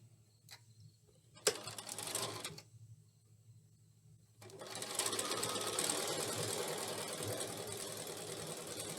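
A sewing machine stitches fabric triangles: a brief buzzing run of stitches, a pause, then a longer steady rattling hum of rapid needle strokes, close and clear.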